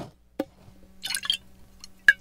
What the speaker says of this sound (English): Pour a little bit more vinegar in the bucket.